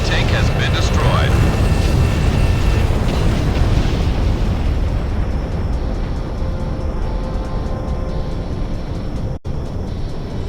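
Bombs bursting on an enemy tank in the Ace Combat 6 video game, a loud, continuous rumbling roar of blasts under jet engine noise, with a game voice speaking over it.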